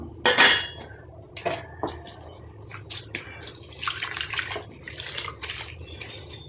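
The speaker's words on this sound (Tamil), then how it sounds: "இப்போ இதில் தண்ணியை ஊற்றிட்டு நல்லா வாஷ் பண்ணிவிட்டு எடுத்துக்கலாம்" Water splashes and sloshes in a bowl as henna leaves are washed, with clinking and rattling of dishes, irregular bursts of running water close by.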